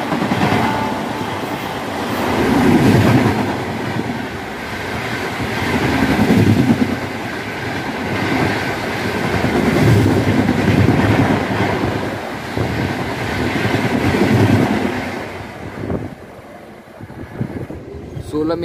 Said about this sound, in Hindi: ट्रेन का डिपार्चर हो चुका है भाई शीतलपुर से